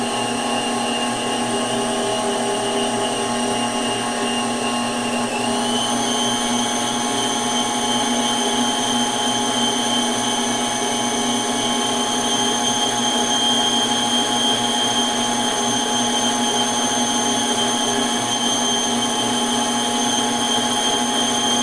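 An electric stand mixer whirs steadily as it beats chocolate cake batter with eggs, a constant motor whine whose pitch steps up once partway through and then holds, with no talk.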